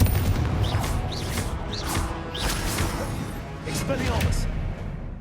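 Confringo blasting spells explode one after another in the Hogwarts Legacy game, several sharp fiery bursts with whooshing tails, mixed with game voices and effects.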